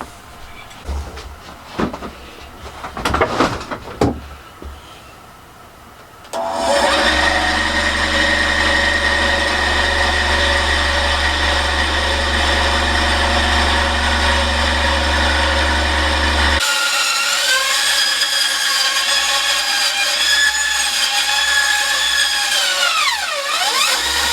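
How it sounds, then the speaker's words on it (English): A bandsaw slices through a thick block of wood for a toy car body, a loud steady whining drone with a shifting tone as the blade labors near its limit, after a few seconds of workshop handling noise. "that's pushed the bandsaw pretty much to its limit, but it seems to have done the job"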